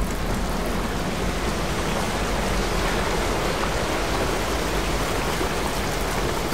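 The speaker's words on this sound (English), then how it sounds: "It's raining." Steady, dense rain hisses evenly and loudly throughout in the horror game Amnesia: A Machine For Pigs, a continuous wash of downpour with no voices over it.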